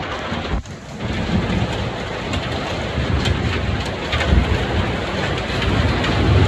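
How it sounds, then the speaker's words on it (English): Dense, steady pounding of hail or heavy rain on surfaces outdoors, a loud continuous clatter with scattered sharper impacts and no voices. "It's hailing."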